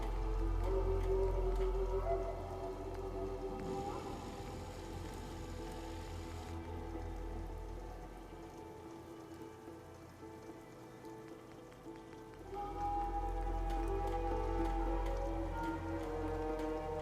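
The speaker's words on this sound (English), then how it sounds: "Hope this rain lets up soon." Steady rain falls on surfaces in the Fallout 4 game world, a continuous hissing patter with low rumbling ambience, dipping slightly quieter midway before swelling back, no voices.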